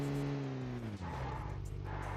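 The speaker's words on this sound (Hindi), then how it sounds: "मैं गाड़ी को पीछे ले चलता हूँ" A car reverses in PUBG Mobile, a steady low engine drone that drops in pitch as it shifts, with a rough tire and road rumble filling the short clip.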